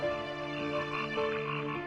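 A frog croaks in a continuous, buzzing drone at moderate loudness, heard alone without any talk.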